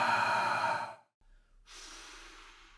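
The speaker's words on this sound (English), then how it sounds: "I breathe into it rather than out at it" Deep breathing during a conscious connected breathwork session: one long, full exhale that fades into a brief pause, followed by a quieter, airy breath drawn in, close and alone.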